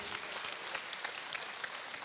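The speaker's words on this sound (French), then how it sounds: "Des applaudissements encore pour Mamadou." Audience applause at a graduation ceremony, a steady dense patter of many hands clapping at a moderate distance, continuous with no talking over it.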